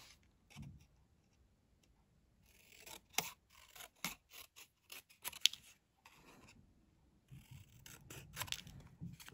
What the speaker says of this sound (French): on va les couper. Bon, avec un ciseau, ça va très très bien